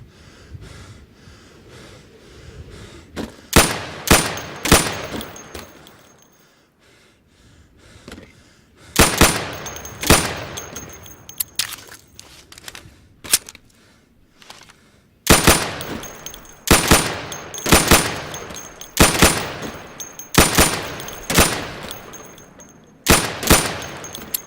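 Gunfire from an Insurgency training range aimed at pop-up targets, loud clustered shots in rapid bursts and single cracks, close and punchy over a steady background hum.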